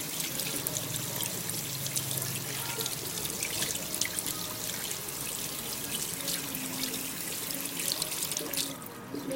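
Tap water runs straight onto a facial cleansing brush as it is rinsed, a steady close splashing stream that keeps going throughout with no voices.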